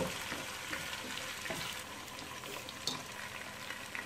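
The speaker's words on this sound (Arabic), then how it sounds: "سوف أترك الدجاج حتى يصبح لونه ذهبي فاتح، بعدها سوف نضيف باقي المكونات" Chicken pieces fry in hot oil in a pot for kabsa, a steady close sizzle with occasional scraping stirs and small crackles, no talking.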